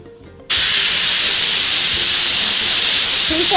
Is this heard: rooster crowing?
no